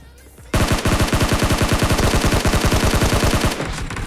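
Rapid automatic gunfire from PUBG Mobile, a loud, sustained burst of evenly spaced shots lasting about three seconds after a quiet start, then trailing off.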